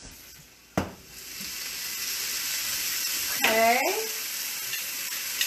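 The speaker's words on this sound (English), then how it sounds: "That's your beef stir fry." Beef stir fry sizzles steadily in a hot pan, a continuous frying hiss broken by a sharp clatter early on and a brief squeaky scrape midway; a voice speaks one short word.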